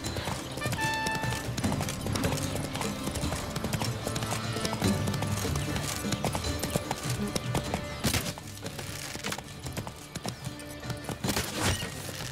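Roach the horse in The Witcher 3, steady clip-clop of hooves trotting continuously over layered game music and ambience, fairly loud and close.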